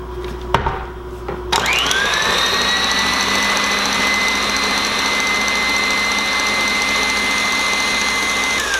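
An electric mixer whips cream past the whipped stage toward butter, its motor rising into a steady high whine after a brief rattle and then holding a constant, close drone.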